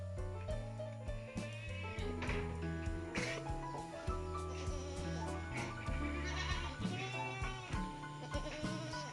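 Goats on a farm bleat repeatedly in overlapping, wavering calls. The calls are fairly faint and continue throughout with a steady, busy rhythm.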